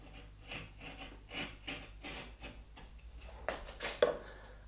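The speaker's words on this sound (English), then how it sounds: "So we'll just clean that up with a little chamfer across there." A hand tool rasps across the edge of a wooden mortise and tenon piece, cutting a chamfer in about a dozen short, soft strokes at a steady pace, close and quiet.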